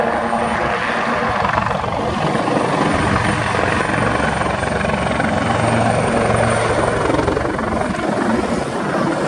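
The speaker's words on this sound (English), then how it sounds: "aircraft transiting rearwards. And then dipping their nose in salute" Display aircraft at the RAF Cosford air show pass by rearwards and dip their noses in salute, a loud, constant engine roar that fills the whole stretch with heavy broadband rumble.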